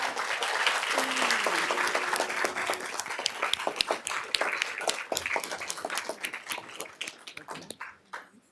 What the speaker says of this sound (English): Can everyone please give them a round of applause?